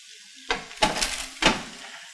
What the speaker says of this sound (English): Looks like the meat is ready, so I'm going to go ahead and pull it out of the oven.